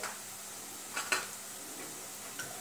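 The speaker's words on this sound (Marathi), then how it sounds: "आपण सर्व मसाले टाकून 1-2 मिनिटं आपण परतून घेऊया" Spices such as turmeric, red chilli and coriander powder sautéed in a pan while brinjal bharit is being made: a soft, steady sizzle with a few light scrapes of a spoon stirring, quiet and close.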